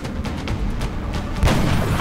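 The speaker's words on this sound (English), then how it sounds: "Sniper hitting an overwatch shot" A sniper rifle overwatch shot fires in XCOM Enemy Within, a short loud boom cracking out midway over a low rumbling game backdrop.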